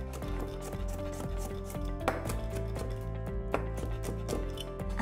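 A knife chops garlic on a cutting board during noodle soup prep, giving a few sharp, close strikes against steady background music.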